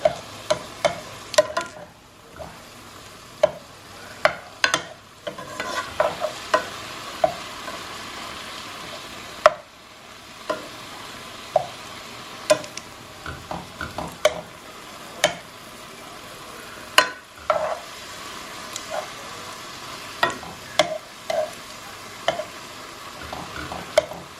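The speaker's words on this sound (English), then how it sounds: "we put a little garlic and ginger in here. And we're letting this cook." Garlic and ginger frying in a pan, a steady close sizzle broken by frequent sharp clicks and scrapes of a utensil stirring against the pan, no talking.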